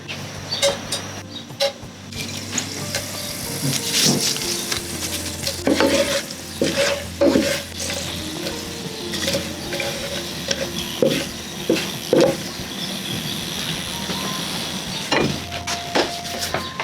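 Indian spices crackle and sizzle in hot oil for chicken biryani, with scraping and stirring clatters from a utensil in the pan at irregular intervals.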